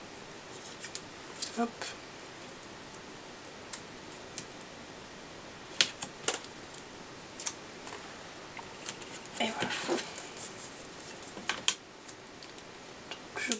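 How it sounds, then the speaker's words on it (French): Scissors snip through sticky tape with a few light, scattered clicks and cuts against a quiet room, while a person speaks softly in French. "Donc je coupe le scotch qui dépasse."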